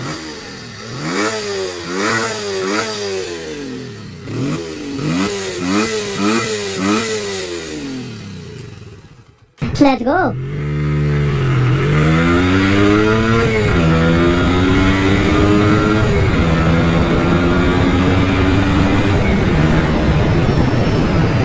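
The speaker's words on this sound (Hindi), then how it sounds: "बट बिफोर दैट मैं आपको एग्जॉस्ट नोट सुना देता" A 2023 Yamaha FZS V4 motorcycle is revved loudly up close in a series of rising blips, then the engine pulls away in a sustained climbing roar; a short spoken phrase comes in the middle.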